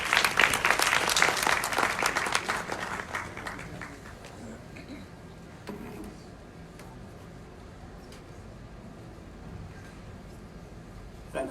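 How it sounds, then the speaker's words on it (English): Audience at a movie premiere in Accra, Ghana applauds the film's executive director, David Weeks; loud, dense clapping for about four seconds, then tapering into a quieter murmur of room noise. "Shall we give him a round of applause?"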